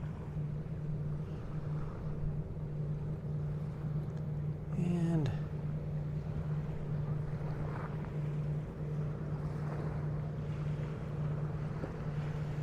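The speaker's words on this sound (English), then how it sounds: "deck boats going on out there" Steady low engine drone of deck boats motoring in the distance on Lake Havasu, Arizona, with wind and water noise throughout and a brief rising whine partway through.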